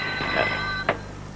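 A telephone rings at a police station on Main Road, a bright electronic trill with a short burst near the end over a steady background hum.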